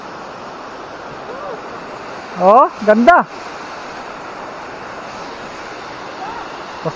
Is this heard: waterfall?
yes